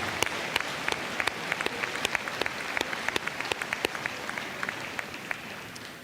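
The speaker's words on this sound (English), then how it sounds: "Let's give these folks a round of applause." Applause at a high school graduation ceremony, scattered distinct claps from a modest crowd heard at some distance, sparse and irregular rather than a dense roar.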